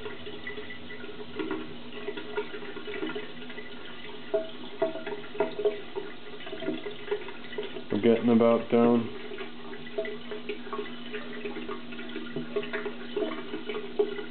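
A water pump starts drawing up water, with faint trickling and then a brief, loud gurgling surge partway through, while someone talks nearby.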